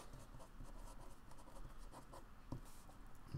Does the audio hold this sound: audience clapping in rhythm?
no